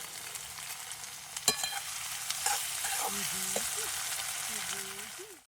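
Onion and capsicum frying in a pan outdoors at a farm, a steady hiss of sizzling with a few utensil clinks, and a faint voice in the background before the sound cuts off.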